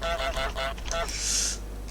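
A goose, one of them wearing a bell, gives a quick run of four nasal honks up close, followed by a brief hiss-like rush over a low steady hum.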